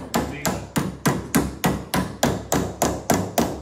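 A hammer strikes a metal rod about ten times in a steady, even rhythm, each blow a sharp, ringing clang that decays quickly, loud and close with no talk.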